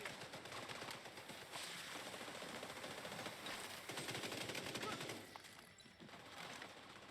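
Rapid automatic gunfire from an SMG build in The Division 2, a loud, dense continuous burst of shots in a PvE firefight, briefly easing near the end before picking up again.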